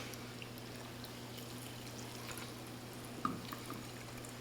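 Seltzer water is poured and fizzes, a faint steady bubbling hiss over a low background hum, with a couple of small clinks or splashes near the end.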